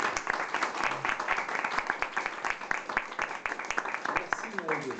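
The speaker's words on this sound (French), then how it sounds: "je vous prie d'applaudir" An audience at a cultural association talk breaks into brisk, steady clapping, many hands close together and fairly loud, with faint voices mixed in near the end.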